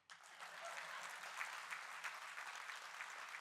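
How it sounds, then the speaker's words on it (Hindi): Sustained applause from an audience at a national summit of institutional leaders at Doon University, a dense steady wash of many hands clapping for the whole stretch at moderate distance, with no one speaking over it. "ताली नहीं मारेंगे?"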